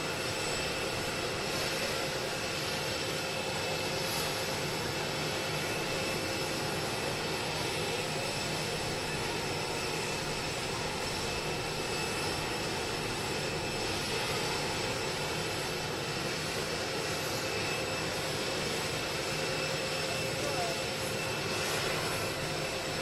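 Air Force One, a presidential jet, rumbles with a steady distant engine roar across the tarmac at Palm Beach International Airport in West Palm Beach, Florida, a continuous broad whine with no voices over it.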